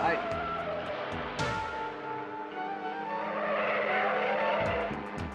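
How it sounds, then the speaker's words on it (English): A sports car careening out of control with tires skidding and squealing, engine roaring throughout over dramatic music, with a sharp skid burst early on. "There's a sports car down there out of control."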